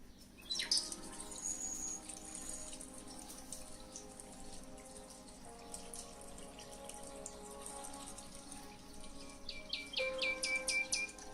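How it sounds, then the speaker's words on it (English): Birds sing outdoors, with bright chirps and repeated trilling calls rising over a steady low background hum, some phrases fairly close and others fainter, carrying on throughout. "there's bloody birds"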